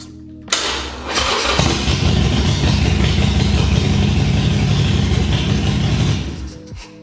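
Harley-Davidson motorcycle engine catching after a brief starter crank, then running at a steady, loud, rumbling idle for several seconds before cutting off.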